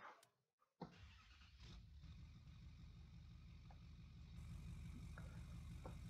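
A stock Chevrolet Silverado pickup's engine starts after a brief quiet moment and settles into a steady, loud, close idle rumble on a farm in the Missouri River bottoms.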